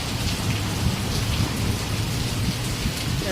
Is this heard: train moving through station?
no